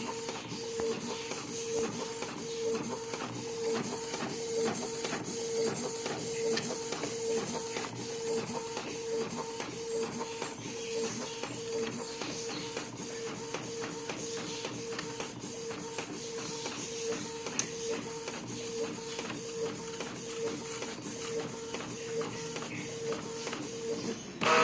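A Canon IP2770 inkjet printer runs a DTF transfer print, its steady mechanical whir and shuffling carriage passes continuing at even loudness throughout, close by with no talking.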